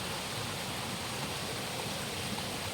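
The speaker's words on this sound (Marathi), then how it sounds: "आवंडी परिसरामध्ये धबधबा असून या धबधब्याचेही दर्शन आपण या ठिकाणी घेऊ शकता" A forest waterfall near Awandi in the Sahyadri hills gives a steady, broadband rushing roar, even and unbroken from start to finish, with no voices.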